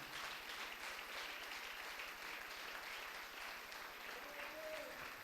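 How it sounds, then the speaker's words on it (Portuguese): A church congregation claps steadily through a worship service, dense sustained applause filling the room, with a faint voice and a brief sung tone rising near the end. "Então aplauda ao Senhor."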